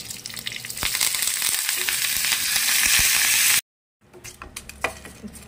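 Dried red chilies and curry leaves crackle loudly in a spoonful of hot oil as a tempering for idli and dosa chutney, a close, dense sizzle that cuts off abruptly, followed by quieter kitchen clatter and small knocks.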